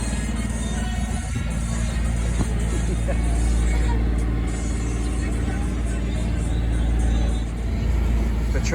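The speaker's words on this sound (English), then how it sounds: "Patrol boat, possibly." A patrol boat's engine drones steadily and loudly throughout as it passes close by off Sardinia, with a constant low rumble and broadband noise.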